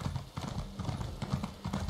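Hooves of a horse mount in Elder Scrolls Online clip-clop in a steady, even rhythm over a soft background bed, moderately near and fairly quiet.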